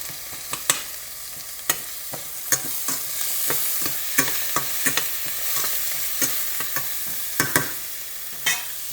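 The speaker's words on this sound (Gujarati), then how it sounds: "ચમચો લઈ લઈએ મિક્સ કરવા માટે" Vegetables with green garlic frying in oil in a home kitchen pan while a large spoon stirs them, sharp scraping clicks repeating irregularly over a continuous close sizzle.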